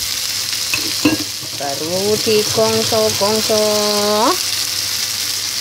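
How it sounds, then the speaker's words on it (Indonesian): Dried tofu and other ingredients stir-fried in a pan give a steady sizzle throughout, with clattering stirs and a few tonal squeaks partway through; a voice speaks briefly near the start. "Ini tumis kalau di Indonesia"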